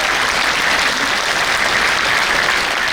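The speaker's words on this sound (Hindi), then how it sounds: "साथियों, आकाश भर तालियों के साथ स्वागत करिए हमारे गणमान्य अतिथियों का।" Sustained applause fills a hall as distinguished guests are welcomed at NHPC's 49th Raising Day ceremony at its corporate office. Many hands clap evenly and continuously for about three seconds, with no talk over it.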